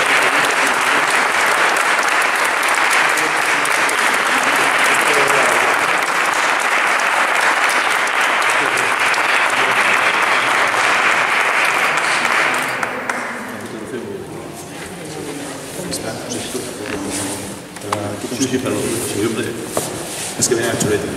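An audience at a photography award ceremony gives loud, sustained applause that cuts off sharply partway through, leaving scattered claps and murmuring voices.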